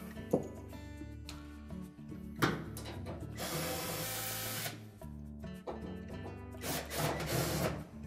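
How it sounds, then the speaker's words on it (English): A socket wrench loosening the blower motor bolts on a Whirlpool dryer, with steady ratcheting clicks and mechanical whirring up close, fairly quiet and without talk. "using either a 5/16 socket or a 8mm socket, just loosen those 2"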